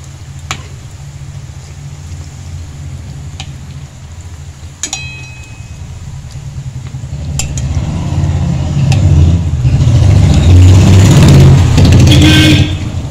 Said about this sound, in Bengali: সব সময়তে গাড়ি পেরাচ্ছে, গাড়ির আওয়াজ পাচ্ছেন তো